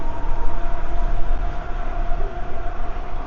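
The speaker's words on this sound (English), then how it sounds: "Where that train is." Passing train heard while cycling, a loud, continuous rumbling roar with a steady tonal hum and no talk.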